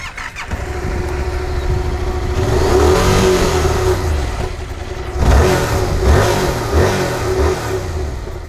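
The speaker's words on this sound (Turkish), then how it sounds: "Hemen canlı canlı sesine de geçelim. Bak şimdi 7'deki sesimiz bu." A Yamaha Tracer 700 motorcycle engine idles and then is revved in several sharp bursts, rising and falling in pitch at close range.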